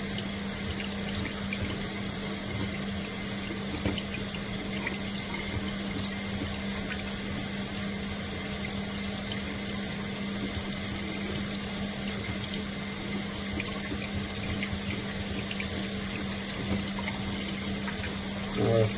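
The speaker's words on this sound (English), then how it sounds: "And we continue again with the hot water." Hot tap water runs steadily over a scored glass bottle in a sink, a continuous close hiss and splash with a low hum beneath, no talk throughout.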